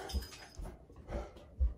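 A big, bossy dog gives a few faint, soft whimpers and low thumps at irregular intervals in a quiet room, with no talk.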